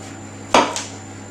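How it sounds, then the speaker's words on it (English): A knife cuts through the ends of a marrow on a board, giving one sharp chop followed quickly by a second lighter one. Both are close, and no voice is heard. "Just chop both ends off"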